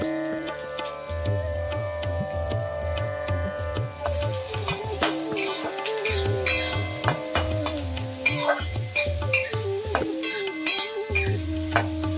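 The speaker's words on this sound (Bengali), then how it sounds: "এবার সাদা তেল দিয়ে দিচ্ছি সাদা তেল সর্ষের তেল দিয়ে রান্না করা যাবে প্রথমে পেঁয়াজটা ভেজে নেব" Chopped onion frying in white cooking oil in a wok for a mushroom kosha, with a steady sizzle and repeated scraping stirs of a spatula against the metal, close and fairly loud, with no talking.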